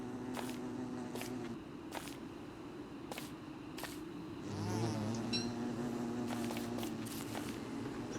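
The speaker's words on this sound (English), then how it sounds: "There's some regular bees." Regular bees buzz steadily in the video game Don't Starve, a low, continuous drone with faint clicks and soft footstep-like taps layered over it.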